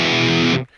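Loud distorted electric guitar through a Screamer 808 overdrive on a Line 6 Pod Go, a sustained saturated chord ringing alone for about half a second before cutting off abruptly.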